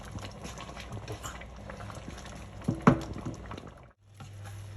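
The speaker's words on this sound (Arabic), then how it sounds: "ونتركهم يفورون يستوون" Lentils for mujadara bubbling in a pot on the stove, a steady close gurgle of boiling liquid with one brief louder pop, then a short drop to near silence before a low hum resumes.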